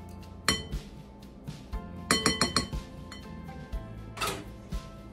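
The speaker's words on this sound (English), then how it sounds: "Let's go ahead and scrape off our spoon" Spoon scraped against a bowl of sour cream mixture while making a chicken pot pie bubble up bake, with a series of sharp clinks and taps, including a quick rapid cluster of knocks, close and clear.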